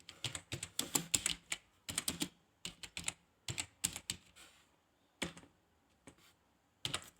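Keystrokes on a computer keyboard as code is typed, coming in quick bursts of clicks with short pauses between runs, close and clear with no talking.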